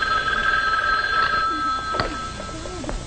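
An old-fashioned telephone bell rings insistently in a domestic dinner scene from a 1950s sitcom, a bright, steady trilling tone that sounds close and loud and carries through the short moment without speech.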